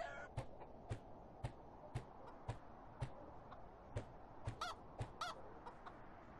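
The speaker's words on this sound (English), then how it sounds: "Listen to my chicken singing." Chickens in the Medieval Dynasty game give off a series of sharp, evenly spaced clucks, about two per second, each a crisp tick-like note. A couple of higher squawks come in midway, and the whole run sounds close and fairly quiet.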